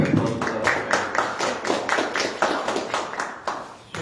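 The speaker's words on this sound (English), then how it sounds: "let's give a round of applause to the" Audience applause closing a conference session on universal health coverage in South Asia, a steady, dense clapping that carries on for about four seconds with no speech over it.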